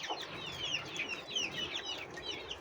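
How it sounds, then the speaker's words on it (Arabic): A white hen gives a run of soft, repeated clucks in a quiet farmyard, the short calls coming in a steady rhythm for a couple of seconds at a faint, somewhat distant level. "وهاي الدجاجة البيضة كركت"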